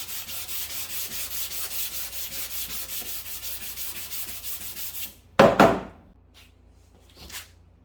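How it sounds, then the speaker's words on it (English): A short sanding block is rubbed back and forth over a dry guide coat, giving about five seconds of rhythmic close scratchy strokes, then a sharp knock and a couple of faint brief rubs. "we'll get our short block sand with this"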